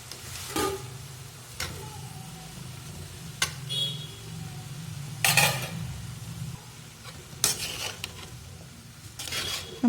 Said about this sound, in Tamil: இப்போ எடுத்துகிட்டு மூடி எடுத்துகிட்டு நல்லா கொஞ்சம் கலந்து விட்டுக்கலாங்க